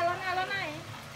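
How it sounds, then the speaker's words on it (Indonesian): Salted fish (iwak peda) fries in hot oil, a close, continuous sizzle and crackle that stays fairly even across the moment with no speech over it. "Goreng iwak peda, geng."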